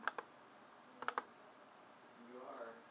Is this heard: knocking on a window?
no